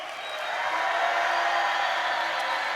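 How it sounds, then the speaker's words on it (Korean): A church winter camp congregation cheers and shouts in a sustained, steady roar that fills the room, with a faint tonal hum underneath and no distinct claps standing out. "우리가 할 수 있는 최고의 함성과 박수로 다시 한번 소리 질러."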